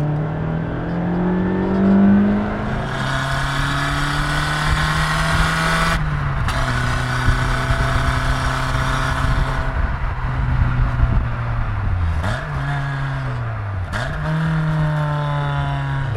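A Suzuki Swift GTi, a Japanese 1980s/90s hot hatch with a mechanical gearbox, revs hard while driving, its engine note climbing steadily through the gears with a few quick shift dips, loud and close with no talking.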